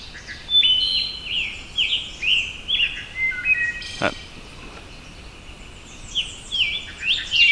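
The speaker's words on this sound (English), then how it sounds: "That's my favorite bird song." Wood thrush song rings out in repeated fluting, flutelike phrases with pauses between them, moderately loud against a quiet outdoor background in Shenandoah National Park, with one brief thump midway.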